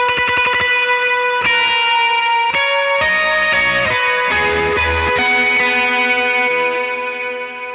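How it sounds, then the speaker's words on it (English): Single notes ring out one after another on an electric guitar through heavy reverb and overdrive, each attack sharp and bright before a long shimmering decay, with no chords or voices. "if we're going to be playing lots of reverb and adding some overdrive to it, I tend to stick to single notes then"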